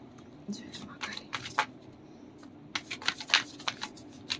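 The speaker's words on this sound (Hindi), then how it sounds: "इसके बाद मैं लास्ट शफल करूँगी" Tarot cards are shuffled by hand in short bursts of soft riffling and flicking, close and moderately quiet, with someone speaking softly between the shuffles.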